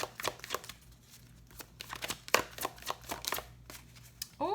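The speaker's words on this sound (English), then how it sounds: "let's ask for one last card for Gemini in July." A deck of tarot cards is shuffled by hand, giving a run of soft, close riffling slaps and flicks in uneven bursts, ending with a brief voice.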